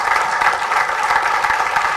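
A seated audience at a lecture-style event applauds, producing a dense, steady wash of many hands clapping at once. It is loud and close, runs without a break, and no one talks over it.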